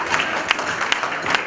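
An audience applauds in a dense, steady patter of many hands, with a few sharper claps standing out and no talking for a second and a half.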